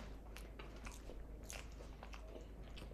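Close, wet chewing of a chocolate strawberry trifle, a few soft squishy bites repeating over a steady low background hum, with no talking.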